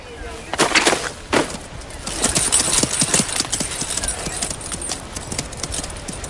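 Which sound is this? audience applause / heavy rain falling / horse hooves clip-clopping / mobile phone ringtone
horse hooves clip-clopping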